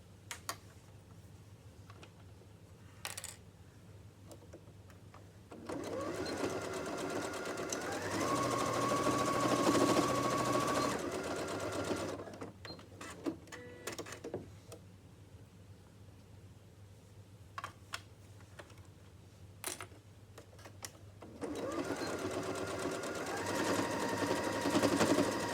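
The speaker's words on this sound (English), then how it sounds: "Now that I've sewn all four corners" Sewing machine stitching the corners of a boxed pencil case, a fast close mechanical rattle running in several bursts separated by quieter handling pauses.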